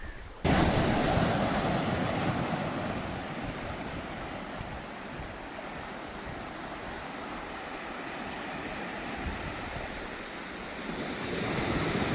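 Sea waves crashing against rocks at Valangapuri Beach, a continuous loud roaring surf with wind rumble that swells briefly at the end, no voices.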